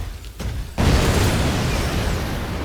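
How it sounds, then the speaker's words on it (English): An explosion in the video game Synduality: Echo of Ada bursts suddenly after a quiet moment, a loud booming blast that rolls into a sustained rumbling crackle lasting a couple of seconds. "It's an explosion."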